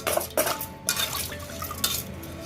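Clay tawa and clay pots being washed by hand, with close, irregular clatter and scraping of the earthenware against a soft wash of water, and several sharper knocks along the way.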